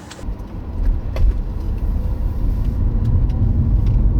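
A car with a CB radio on board moves off, a low steady road rumble building slightly over a few seconds, with faint light clicks and no talk.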